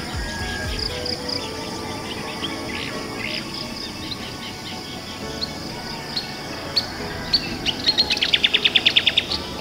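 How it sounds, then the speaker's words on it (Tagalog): Morning birdsong outdoors, with scattered chirps and tweets at moderate distance over a faint insect hum, building into a rapid, brighter trill near the end. "maririnig mo yung huni ng ibon."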